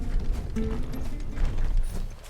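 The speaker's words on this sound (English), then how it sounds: "Horse!" A horse gallops in Final Fantasy XVI with steady, rhythmic clip-clop hoofbeats, close and moderately loud, over a low background rumble.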